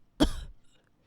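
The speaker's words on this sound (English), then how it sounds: "He coughed and said weakly." A man gives a single short, rough cough or throat clear, close and brief, followed by quiet.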